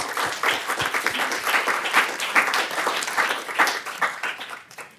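Audience of residents at a retirement community council meeting applauding together, a steady wash of many hands clapping close by that thins and fades out at the end.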